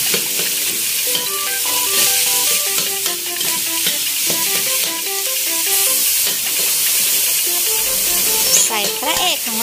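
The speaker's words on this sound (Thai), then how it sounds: "ผัดให้หมูสุกค่ะ" Ground pork is stir-fried with aromatics in a hot pan for Thai basil eggplant, with a loud continuous sizzle and repeated scraping stirs, while background music plays throughout.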